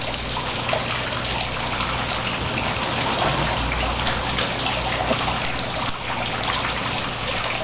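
Pond water flowing through water celery roots that act as a mechanical filter, a steady broadband rush and trickle that stays even and close throughout.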